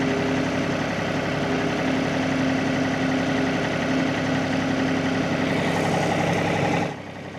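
A tractor engine holds steady at 1300 RPM while a fertilizer spreader is set up, giving a constant mid-pitched drone that runs evenly for about seven seconds before dropping off near the end.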